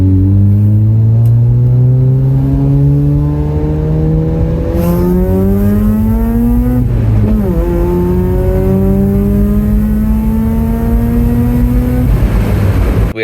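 The ported naturally aspirated rotary engine of an RX7 revs hard during dyno tuning pulls. It makes a loud, steady buzzing drone whose pitch climbs, drops briefly around the shift, then climbs again, close and continuous with no talking.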